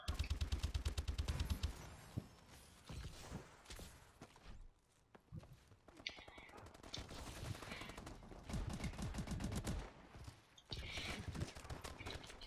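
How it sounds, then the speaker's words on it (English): Pytech gun firing in Call of Duty: Advanced Warfare multiplayer Gun Game, rapid bursts of close, sharp shots in rattling volleys with short pauses between them, plus occasional other gunfire. "I hate this fucking gun. The Pytech."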